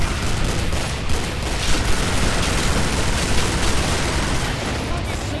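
Dense, continuous gunfire fills the Killing Floor game, with rapid overlapping shots and grenade blasts forming a loud, unbroken wall of combat noise.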